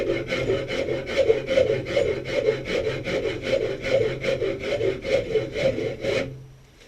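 A rasp files steadily across wood while a bow is being shaped, giving a loud, close, rhythmic rasping of roughly two strokes per second that cuts off at the end.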